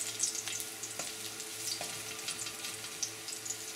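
Small minced garlic sautéing in a pan, a steady soft sizzle with faint crackles and occasional clicks of stirring, quiet and close, with no talking.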